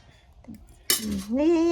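A spoon clinks faintly against a plate during a meal, with a few light taps early on before a voice, likely a child's, takes over close by.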